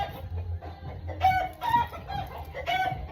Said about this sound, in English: You hear my roosters right now